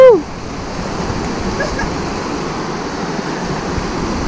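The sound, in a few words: river water flowing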